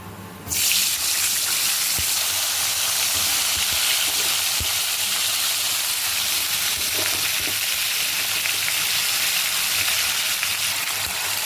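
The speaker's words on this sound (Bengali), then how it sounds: "তেল গরম হয়ে গেছে, ফুলকপিগুলো দিয়ে দিই।" Cauliflower pieces drop into hot oil and set off a sudden, loud, continuous sizzle that stays close and steady for the rest of the stretch, with faint clicks of the pan beneath.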